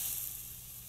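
Olive oil sizzles in a pan as a pet food pie is cooked, a close, steady high hiss lasting under a second with no talk over it.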